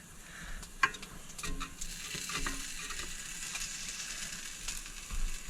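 Patties sizzling on a griddle as they are turned, a continuous close hiss of frying with a few scraping and tapping spatula sounds on the metal surface.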